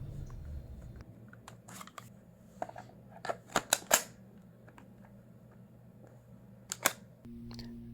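Plastic 3D-printed pistol magazine shells snapping into the mag wells of a TGR and an M17 handgun, giving a scatter of sharp clicks and a tight cluster of louder clacks near the middle, with another click later, all close and without speech.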